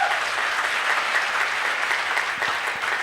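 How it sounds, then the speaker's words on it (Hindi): Audience applause at a stage event, a dense, steady wash of many hands clapping together that holds at an even, full level throughout with no voices standing out. "आज मैंने इतनी तालियां बजाई हैं"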